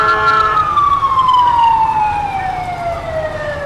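A parade vehicle siren at a Fourth of July parade in Bettendorf wails loud and close, one long tone sliding steadily downward with bright harmonics.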